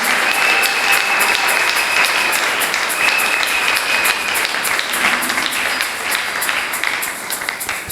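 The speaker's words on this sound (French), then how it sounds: "Nous acclamons pour le Seigneur." A church congregation at a special worship service applauds in praise of the Lord: dense, steady clapping from a crowd fills the room, loud and sustained for the whole stretch with no pause.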